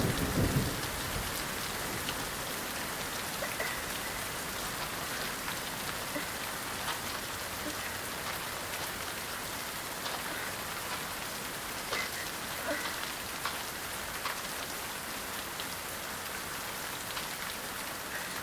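Steady heavy rain pouring in the Fatal Frame III video game, dense and constant with scattered droplet ticks and a low rumble near the start, no voices.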